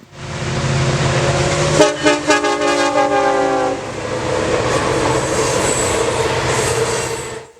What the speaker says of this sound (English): Our first train at the curve is a southbound coal drag, and the engineer was nice enough to give me a horn salute.